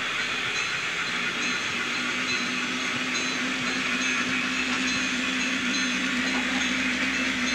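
Model trains emerge from tunnels on a layout, giving a steady, continuous rumbling and hissing run with a faint mechanical hum throughout, close and unbroken, with no talking.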